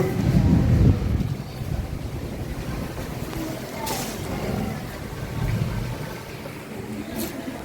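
Gusty wind blowing through a village before rain, a loud, steady broadband rush buffeting the microphone, strongest at the start, with faint voices now and then.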